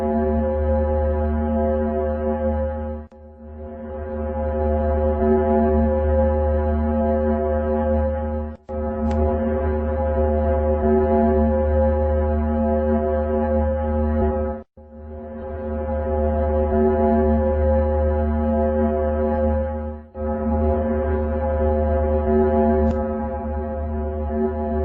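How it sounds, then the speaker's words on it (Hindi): Sonified recording presented as the sound of planet Venus, a deep steady droning hum like a foghorn that holds for long stretches and breaks off briefly four times. "साइंटिस्टों द्वारा जब वीनस के साउंड को रिकॉर्ड किया गया तो वो कुछ ऐसा था।"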